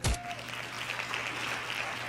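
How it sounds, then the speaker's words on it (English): Applause of hand claps in a dense, steady patter follows a brief burst at the start, moderately loud with a low hum beneath. "Hand claps. Salute."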